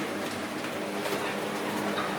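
Pigeons or doves coo in a small aviary, a dense, continuous wash of soft cooing and noise up close, with faint voices in the background.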